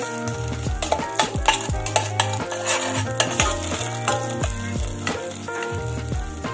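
Garlic sautés in a pan with a steady fry, sharp metallic taps and scrapes from stirring, and tonal music running underneath.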